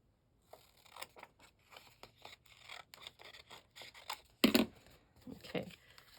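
Scissors snip through paper while a bird-themed junk journal is assembled, a run of quick, close cuts with rustling and one sharper, louder snip near the end.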